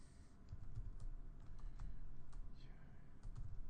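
Someone types an SQL query on a computer keyboard, with a quiet, close run of irregular key clicks in short bursts and brief pauses, with no talk.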